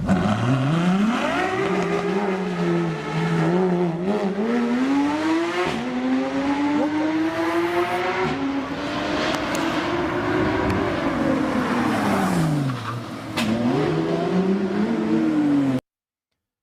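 A Ferrari LaFerrari supercar is driven hard, its engine revving loud and close in long rising and falling sweeps with brief gear-change dips, sustained for about sixteen seconds.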